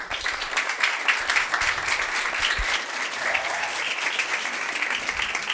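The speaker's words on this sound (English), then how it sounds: "please give a round of applause for Marjan" Seminar audience in Malmö applauding a solar designer's introduction, dense sustained clapping from many hands filling the room, loud and even throughout.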